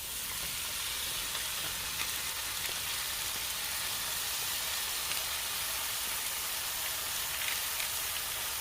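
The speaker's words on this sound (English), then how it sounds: "I'm going to add my frozen spinach." Frozen spinach hits hot oil already infused with onion and habanero, giving a steady, dense sizzle that runs evenly throughout at close range, with no voices over it.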